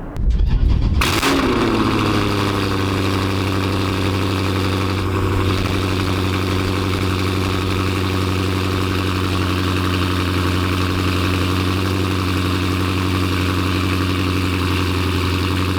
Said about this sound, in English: I got the headers installed, and here is how they sounded the first time I ever started the car.